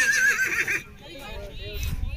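A horse at a horse show in India gives a loud, close whinny, followed by crowd chatter and talk with some hoof and ground noise.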